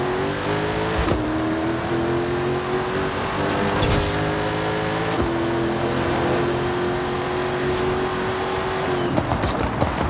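Chevrolet K10 drag car in Forza Horizon 5, its engine revving loudly and holding high rpm through a gear, with brief dips at the shifts and a rising whine, close and without talk.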